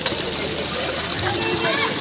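Splashing and sloshing water at a waterfall pool where people are bathing, a steady broadband wash of falling water with intermittent splashes and faint children's voices mixed in.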